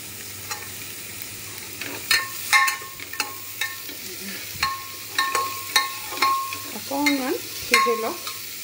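Onions, carrots, beans and cashews sizzle in a hot pan while a utensil stirs and scrapes repeatedly, producing irregular clinks and scrapes over a steady frying hiss.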